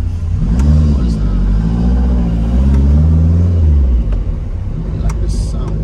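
A Maserati Shamal's engine revs in a deep throaty rumble while driving, rising and falling through the gears, loud and close, with people talking over it.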